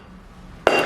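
Small, slightly hollowed plates clink together once, a sharp, bright ceramic knock after near silence, close and alone.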